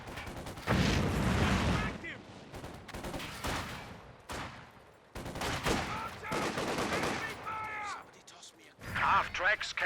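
Gunfire in Company of Heroes 2, a 2v2 match, with a second machine gun in play: bursts of shots and explosions come in loud, dense clusters, mixed with other battle noise and in-game voice callouts.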